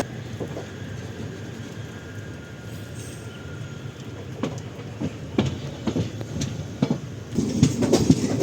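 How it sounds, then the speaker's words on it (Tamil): Mysuru–Sengottai express train rolling along the tracks after departing, with a steady low rumble and scattered wheel clicks and clanks that build louder toward the end. "ஸோ நம்ம ட்ரெயின் சிலம்பூர் ரூட்டில் கிளம்பியாச்சு"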